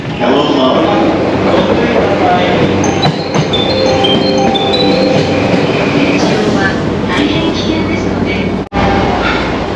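A Tokyo rush-hour train rumbles steadily with squealing metallic tones and clatter, a constant loud drone with a brief dropout near the end.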